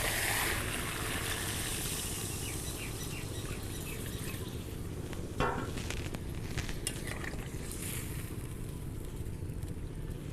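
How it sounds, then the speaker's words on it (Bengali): Water poured into a pot of chicken curry with potatoes frying in oil, a steady rushing pour and sizzle with occasional clinks of a spoon against the pot, close and continuous without talk. "এবার আমি এর মধ্যে জল দিয়ে দেবো।"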